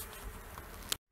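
A steady, busy buzz of many honeybees close by at hive frames in April, lasting about a second before cutting off abruptly.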